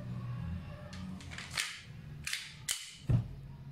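A WE Glock 34 Gen 3 gas blowback airsoft pistol fires three sharp, snappy pops, irregularly spaced and close, indoors in an air-conditioned room over a low background hum.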